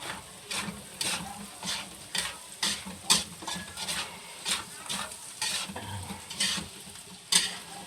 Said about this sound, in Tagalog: So haluin na natin mabuti.